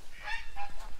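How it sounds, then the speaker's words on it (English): Goslings or ducklings let out to roam free give a short run of honking, goose-like calls, fairly close and clear over soft background noise for about a second. "There goes a duck."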